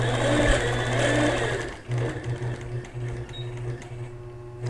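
Sewing machine running steadily through free-motion quilting stitches, a loud continuous motor hum with brief pauses and speed changes, close by and without talk.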